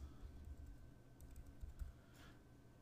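Quiet keystrokes on a computer keyboard, a scattered run of soft clicks over a low background hum, faint and close.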